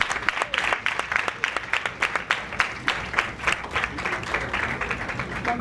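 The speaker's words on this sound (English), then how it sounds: "Now we clap for the boss once more, please." Sustained applause from an audience at the launch of a national medium-term development plan, dense and steady clapping throughout with crowd murmur, no speech on top.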